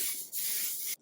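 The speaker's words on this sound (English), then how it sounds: "spray onto my hair from a distance," Hair spray misted onto hair from a distance, two short bursts of close, bright hiss separated by a brief break.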